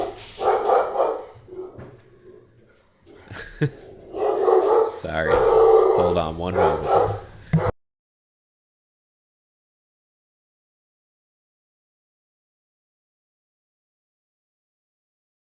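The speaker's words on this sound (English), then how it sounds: "my dogs are going to freak out" Pet dogs barking and yipping indoors in a home trading room, loud bursts mixed with someone talking over them, the noise stopping abruptly partway through.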